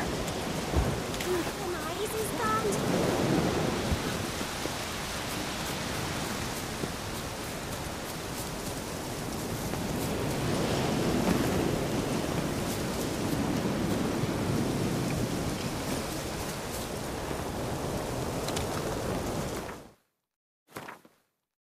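Steady rain in The Witcher 3: Wild Hunt on PS4, a dense, even hiss with swelling gusts that holds for about twenty seconds before cutting out, followed by a brief faint thump.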